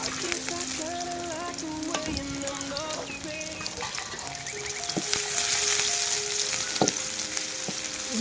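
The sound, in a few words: frying onion with ginger garlic paste in soybean oil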